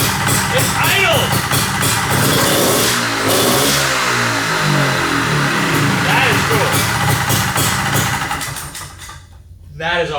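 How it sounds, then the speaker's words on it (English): A Honda Odyssey FL350 engine runs steadily after starting, a loud continuous idle that fills the whole stretch, with people talking over it. "Yeah, it fired right up and it idled."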